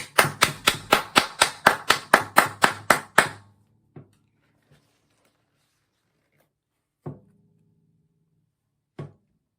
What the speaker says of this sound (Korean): 우리 하나님께 감사의 박수 드립시다.